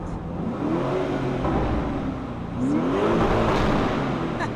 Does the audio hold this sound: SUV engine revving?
yes